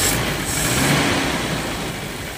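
A Toyota Tamaraw FX with an overcharging fault and a bulging battery has its engine running in a steady, loud, close idle-to-rev drone, with no voices over it.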